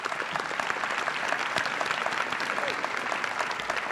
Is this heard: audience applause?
yes